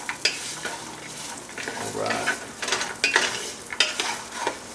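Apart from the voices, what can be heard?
sesame seeds sizzling in a pan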